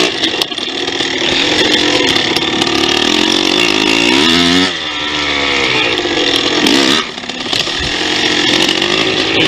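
A 2001 Yamaha Blaster ATV engine runs loud and close, a buzzing, raspy drone that rises and falls as the throttle is blipped and revved several times.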